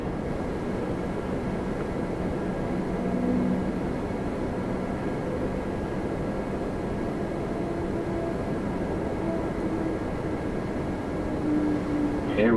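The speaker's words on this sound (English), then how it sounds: "Lufthansa on its own power now. Taxiing" A Lufthansa airplane taxis across the ramp at Toronto Pearson airport, giving a steady, broad jet engine roar with a faint whine that holds evenly throughout. The sound is moderately loud and carries no talk.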